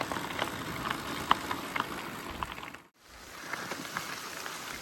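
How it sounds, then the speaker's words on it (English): Rain falls on a cyclist riding up Marshall Pass in the Rockies, a soft, steady patter with a few sharper drops, broken by a brief near-silent gap before the patter resumes. "It's raining. Heading up the Marshall Pass, and it's actually raining."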